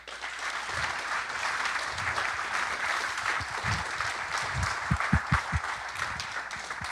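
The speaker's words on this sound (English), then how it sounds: "So I actually do want to give a round of applause for just all the developers" Sustained audience applause in a conference hall at the ROSCon 2018 robotics developer conference closing session in Madrid, a steady dense wash of many hands clapping with a few louder nearby claps toward the end.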